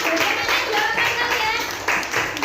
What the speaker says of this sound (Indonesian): Kasih aplaus untuk kelompoknya Mas Angga.